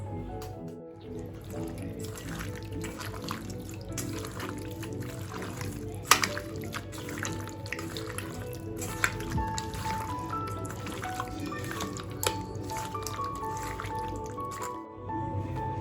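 Raw chicken being mixed by hand with marinade for chilli chicken, giving wet squelching and soft dripping sounds in an irregular rhythm, close and fairly quiet, with a few sharper clicks.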